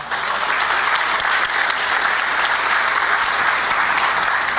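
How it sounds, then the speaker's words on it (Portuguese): An audience in a church family service claps for Mariela, steady dense applause that holds at full strength for several seconds without a break, a crowd of many hands close by. "Dá uma salva de palmas para Mariela"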